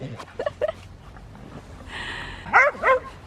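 A dog gives a couple of short, sharp barks nearby outside a shop, preceded by faint whimpers, with quiet street ambience around it.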